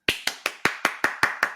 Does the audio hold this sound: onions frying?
no